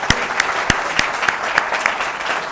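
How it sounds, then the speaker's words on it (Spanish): An audience at a talk applauds steadily and fairly loudly, with distinct individual claps overlapping into a brief burst. "Démosle otro aplauso."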